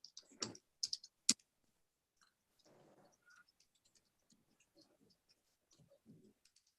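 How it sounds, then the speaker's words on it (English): Faint, scattered clicks come from a computer keyboard being typed on during a quiet finance committee meeting, with a few sharper taps at the start and then sparse soft keystrokes. "I'm typing it in now."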